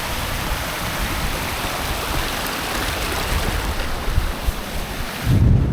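Strong wind blasts steadily across an exposed ridge, roaring and buffeting the microphone without a break, with a heavier gust at the very end and no voices.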